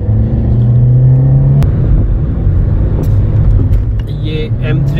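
A car pulls away from a toll booth onto the M3 motorway toward Multan in Pakistan, its engine humming and rumbling steadily close by, with a brief shift in pitch as it gets moving.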